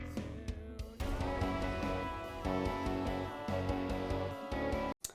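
An unmixed pop punk song plays with dense distorted guitars, drums and sustained tones, loud and continuous, with a brief sharp dropout near the end.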